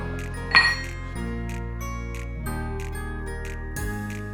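Ice cubes strike a cocktail glass in one sharp clink while a sambuca and tonic is served over ice, followed by faint scattered tinkles over soft background music.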